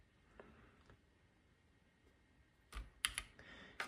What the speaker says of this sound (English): To be started, you can tap spacebar